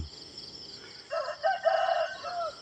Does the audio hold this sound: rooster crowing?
yes